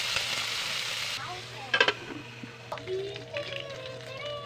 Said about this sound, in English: Put oil in a pan. Cook pork until it turns brown.